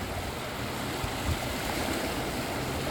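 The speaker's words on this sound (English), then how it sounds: "look at the waves coming in." Video game ocean waves rolling in to shore, a steady broad wash of surf with soft swells, continuous and fairly loud with no talk.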